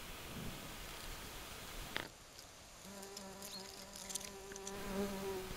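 Bumblebees buzz close by around white archangel flowers in quiet outdoor surroundings. The low, steady hums drift in and out with a soft rustle of background noise.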